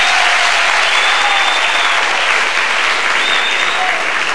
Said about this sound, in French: le public tiens, va vous faire une petite salve d'applaudissements